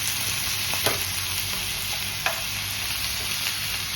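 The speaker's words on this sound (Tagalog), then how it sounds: "Sasaluhaluin lang natin." Sautéed vegetables with sardines are stirred in a frying pan, giving a steady loud sizzle with a few light scrapes and clinks of the utensil against the pan.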